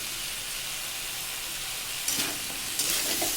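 Steady sizzling of pumpkin pieces sprinkled with turmeric frying in a pan, with a couple of brief stirring scrapes toward the end.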